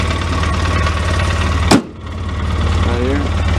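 A gas-powered 2005 Polaris Ranger 4x4 utility vehicle idles with a steady, fairly loud low rumble, broken once midway by a sharp knock followed by a brief dip in the engine noise.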